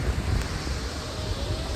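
Nuranang (Jung) waterfall in Tawang, Arunachal Pradesh roars as a dense, constant rush of falling water mixed with wind buffeting the microphone, loud and steady throughout.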